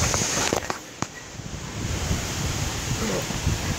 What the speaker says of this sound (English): Nope. Really windy.